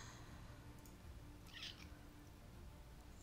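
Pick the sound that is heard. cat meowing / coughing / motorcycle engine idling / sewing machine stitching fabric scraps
cat meowing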